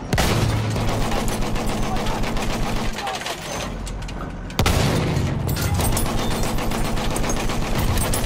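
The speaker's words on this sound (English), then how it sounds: "There's a machine gun!" Machine gun fire in the video game Battlefield 1 on the Amiens map, rapid loud bursts nearly throughout, briefly dropping to a quieter lull before another heavy burst resumes.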